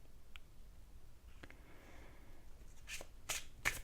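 Tarot cards being handled and shuffled, soft papery riffles and taps close up, a few brief quiet flicks early then a louder burst of shuffling near the end, no talk.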